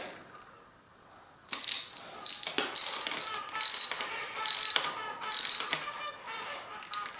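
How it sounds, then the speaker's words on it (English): A socket wrench ratchets as it tightens a bolt on a RockShox Quadra 21R bicycle fork, rapid clicking bursts in repeated strokes, close and crisp, with brief pauses between pulls. "get engaged with the bolt there, and start tightening the bolt. When I start feeling resistance, then I can use my wrench"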